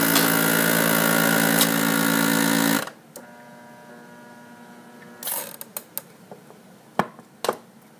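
A Food Saver vacuum sealer pumps air from a wide-mouth jar packed with brown sugar, a loud steady motor drone that cuts off abruptly after about three seconds, followed by quieter clicks and handling knocks.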